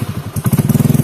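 A Yamaha Mio J motor scooter engine starts with a few uneven thumps, then settles into a close, loud, rapid steady idle putter.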